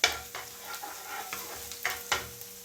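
Chopped garlic frying in a pan for egg curry, a steady close sizzle with a few sharp scrapes of stirring, and no voices.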